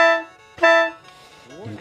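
A khaen, the Lao bamboo mouth organ, sounds the note mi in two brief, reedy tones, the second one stronger. A voice begins speaking right after.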